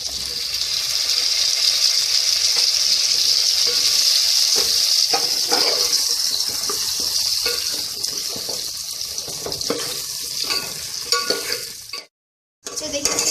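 Potatoes go into masala frying in a pan for aloo sem sabzi, a loud, steady sizzle with scraping stirring sounds, ending in a brief silence before the frying resumes.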